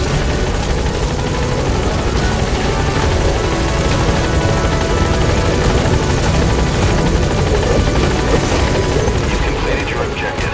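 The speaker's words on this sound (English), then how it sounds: "Support helicopter has arrived." A support helicopter in Metal Gear Solid 5 beats loudly and steadily throughout with a close, continuous rotor chop and a high whine, unbroken by talk.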